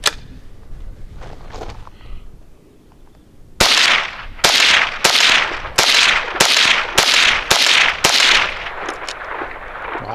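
A Henry AR-7 survival rifle fires Stinger ammunition in a rapid string of about ten loud, sharp cracks, each with a short ringing tail. A quieter stretch comes before the volley and there is no talk.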